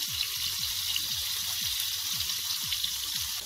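Beef fillet fries in a pan with oil and garlic, a steady close sizzle crackling continuously and evenly throughout, with no voices.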